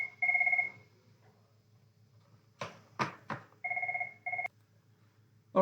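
A telephone rings with a two-tone electronic trill in short bursts, separated by a few close clicks and knocks, as if the handset is being fumbled, with no speech.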